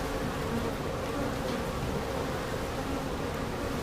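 Honeybees in an open hive with frames lifted out drone in a dense, continuous, close buzz that holds at an even level throughout, with no voices over it.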